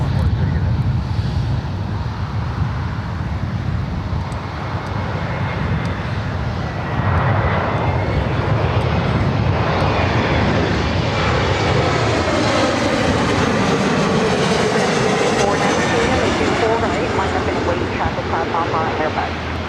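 A United Express Embraer E175 jet operated by SkyWest arrives at LAX, its engine roar steady and loud throughout with a broad rush and gusting wind across the microphone, the noise swelling as the aircraft passes close.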